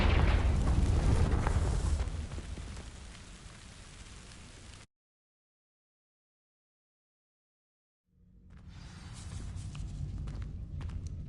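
A Confringo fire spell igniting dry vines in Hogwarts Legacy: a loud, roaring burst of crackling flame that fades to a gap of silence, then a softer burning crackle returns.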